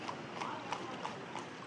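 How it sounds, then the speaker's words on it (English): Hooves of a horse pulling a cart clip-clop on a town street in Cardenas, Cuba, a steady run of soft, evenly spaced beats at moderate distance over a noisy outdoor background. "They also turned to horse-drawn carts, decommissioning buses and taxis in an effort to save fuel."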